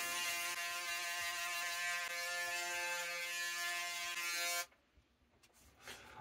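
A Braun Series 9 Pro electric shaver buzzes with a steady, close, even motor tone for about four and a half seconds, then cuts off abruptly, leaving faint rustling afterward.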